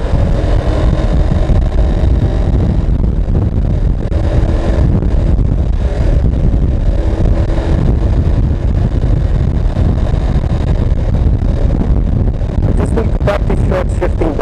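A motorcycle rides through downtown Davao City, with a loud steady engine drone buried in heavy wind rush and no distinct gear changes, and a few sharp clicks near the end.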